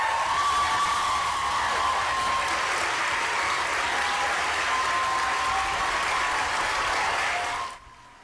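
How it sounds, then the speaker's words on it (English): Supporters of the Reproductive Health Act applaud and cheer in the Senate chamber after the bill passes, a loud sustained wave of clapping with whoops and shouts that cuts off abruptly near the end. "supporters of the Reproductive Health Act are cheering there after it was passed in the Senate yesterday"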